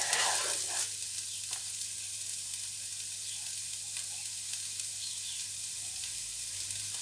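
Celery sizzles steadily in a hot pan while being stirred for chicken jambalaya, a close, constant crackling hiss with a brief louder stirring scrape at the start and no talking.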